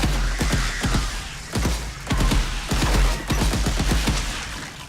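Gunfire against zombies in the Reficul VR game, dense rapid volleys of loud close shots with heavy low thumps, coming in repeated bursts with short lulls and no talking.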